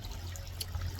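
Water from a garden pond waterfall trickles and splashes in a brief, faint, steady stretch with no voices.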